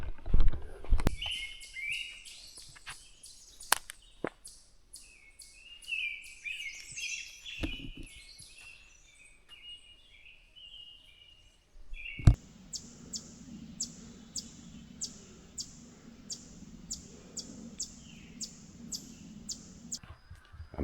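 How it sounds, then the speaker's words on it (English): Small birds chirp in the distance on South Manitou Island in a quiet outdoor setting, with faint scattered calls giving way to a rapid, repeating series of high tweets. "I'm hearing like a bunch of birds or something off in the distance."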